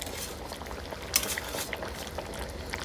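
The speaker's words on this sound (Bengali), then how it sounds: "এখন দিয়ে দিব জিরা বাটা" Cumin paste loosened in water goes into a pan of onions frying until reddish, making a faint bubbling, liquid sizzle with a sharp splash and a few light utensil clicks, quiet and without speech.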